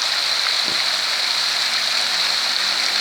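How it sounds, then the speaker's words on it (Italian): Water cascades and splashes in a renovated modern public fountain with a stepped water staircase, a steady loud broadband rush filling the whole stretch without pause, no voices. "proprio avvicinato alla fontana, che è stata anche rinnovata, mi sembra molto bella, con questa cascata di acqua, con questi spruzzi di acqua"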